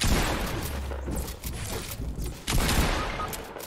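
Video game gunfire in dense bursts of loud, sharp shots with booming impacts, crackling repeatedly and close throughout.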